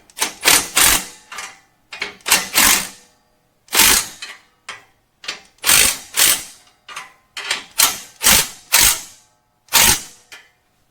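Ratchet wrench cranking down header bolts during a shorty versus long tube header install, in repeated bursts of rapid, close, loud clicking separated by short pauses, with no voices.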